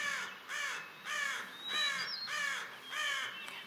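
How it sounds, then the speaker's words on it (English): Ravens giving a series of about six harsh, hoarse caws in a steady rhythm, fairly close and clear over a quiet background with no talking. "Ravens."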